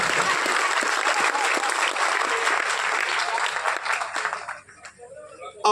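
An audience at an All India ghazal mushaira claps in a dense, loud, sustained round of applause that thins out and fades near the end.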